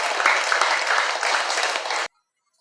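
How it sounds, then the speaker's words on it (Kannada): Loud crowd applause at a weekly mass meditation gathering in a pyramid meditation hall, dense and steady for about two seconds before stopping abruptly into silence. "85ನೇ ವಾರಕ್ಕೆ ಜೋರಾಗಿ ಒಂದು ಚಪ್ಪಾಳೆ ಹೊಡೆಯೋಣ"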